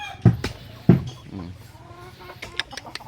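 Gamefowl roosters at a chicken farm give a few close, low clucks in short bursts, with quieter rustling and a faint chirp afterward.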